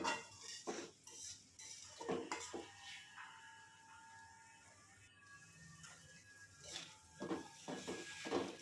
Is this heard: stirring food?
yes